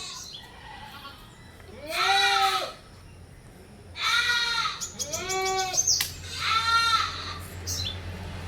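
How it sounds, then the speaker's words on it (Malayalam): A mother goat for sale on a farm in Kerala bleats loudly three times, each call drawn out and wavering, with short quiet gaps between them and a faint background hum. "അടിപൊളി ആട്."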